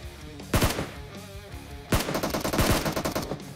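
Micro Uzi gunfire in PUBG Mobile: two loud, rapid sprays of automatic fire close by, a short burst near the start and a longer rattling burst after a pause, with no talk.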